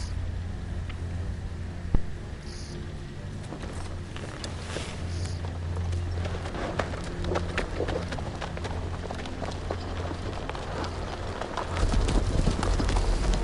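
Rapid clip-clop of horse hooves running in the video game Game of Thrones: A Telltale Game, a continuous busy rhythm of footfalls that grows louder and heavier near the end.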